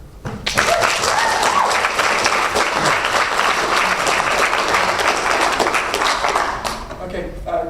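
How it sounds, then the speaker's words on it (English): Loud, sustained audience applause at a talk at LSE swells quickly and holds steady for several seconds before tapering off, with no voices standing out above the clapping. "the guy up there who got a good round of applause"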